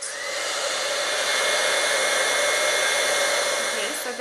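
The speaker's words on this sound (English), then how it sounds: "I'm going to let my heat tool heat up first and then go ahead and emboss it" Embossing heat tool warming up, a steady loud blowing whir like a hair dryer, continuous and close with no talk.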